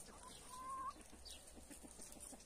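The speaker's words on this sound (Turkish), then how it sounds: "Tavuklardı şimdi etrafta dolaşırken" Chickens wandering around a village yard among cut grass, with faint, soft clucking and brief calls against quiet outdoor background noise.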